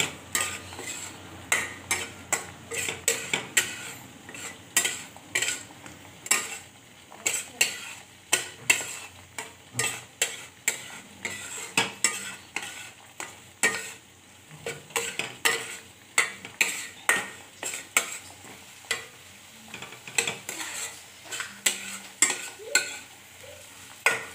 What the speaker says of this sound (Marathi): सारखं हलवायचं, सारखं आपण हलत जायचं।